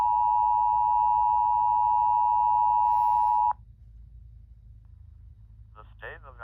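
Emergency Alert System attention tone, a loud, steady electronic tone held for about three and a half seconds before cutting off abruptly, followed by quieter background hum and a voice starting to speak.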